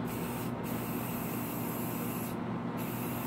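A spray paint can hisses out flat red paint in one steady, close, continuous burst lasting the full stretch, with no voices.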